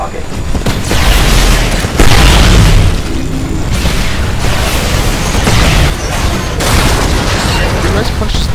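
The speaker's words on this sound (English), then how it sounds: "A friendly Titan is attacking your target." Heavy Titan weapon fire and repeated explosions from the mech shooter Titanfall, a loud, dense stretch of booming blasts and bursts that rolls on without a break, with sharper peaks near the two-second mark.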